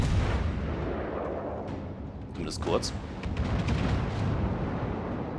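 Naval artillery fire in the World of Warships game, with the Colorado battleship's guns aimed at a Zara cruiser: heavy, rumbling booms and blasts rolling under continuous game noise, with someone talking briefly.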